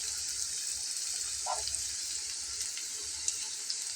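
Stuffed fritters filled with mustard and poppy seed paste fry gently in oil in a pan over lowered heat, giving a steady, hissing sizzle that runs evenly throughout with no voices.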